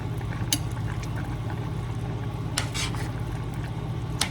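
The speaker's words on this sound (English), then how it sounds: "Our green beans are beginning to boil." Canned green beans with pork come to a boil in a pot on a stovetop, giving a steady close bubbling simmer with faint clinks and a few brief scrapes of a utensil against the pot.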